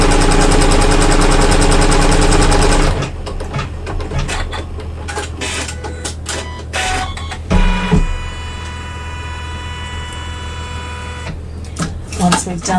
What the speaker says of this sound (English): I'm going to return my hoop to the machine and stitch colorway 8 to secure that fabric.